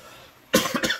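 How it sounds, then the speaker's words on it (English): One short, sharp cough bursts out close and loud after a near-silent moment, followed by a couple of quick raspy breaths, with no talk. "Sorry, I got this cough."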